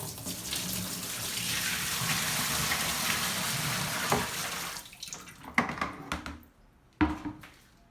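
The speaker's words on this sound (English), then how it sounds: "Now I'm going to pour in some quantity of water again" Water is poured steadily into an LG washing machine with a broken drain, a continuous rushing splash that stops abruptly, followed by a few sloshing knocks and clunks.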